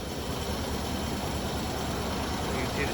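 A 1993 Ford Ranger engine idles steadily with an exhaust leak, giving a constant rough low rumble and hiss that sits close and even throughout, with no clear speech over it.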